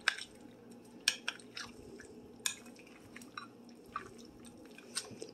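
Tuna dill pasta salad with bow tie pasta being stirred, giving soft wet squelches and sticky clicks in an irregular rhythm, close and fairly quiet, with no talking.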